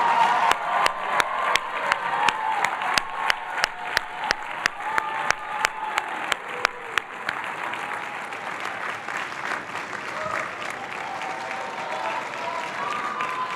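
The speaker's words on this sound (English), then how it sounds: "give you a round of applause" A crowd applauds, with sharp, regular claps standing out at first, then the clapping blends into a sustained, dense wash that fades slightly toward the end.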